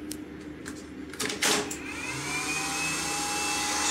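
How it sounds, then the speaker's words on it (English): Cooling fans on a CNC machine's 24-volt supply spin up after a few clicks and knocks, rising into a steady whirring hum with a faint climbing whine that holds to the end, close by. "this is the fan from this that started and stopped right now"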